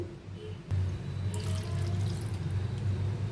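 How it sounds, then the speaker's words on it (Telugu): Water poured into a pot of potato curry made with lentil tamarind broth, a steady splashing pour that starts abruptly and runs continuously, fairly close. "గ్లాసున్నర వాటర్ అయితే పోసుకోవాలి"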